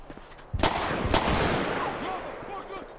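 Gunfire in the GTA V LSPDFR police mod, two sharp close shots followed by a fast burst, with lingering echo and faint background game sounds as the shooting trails off.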